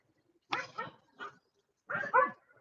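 A dog barks indoors, a few sharp, fairly close barks in two short bursts separated by a brief pause, with no talking over them.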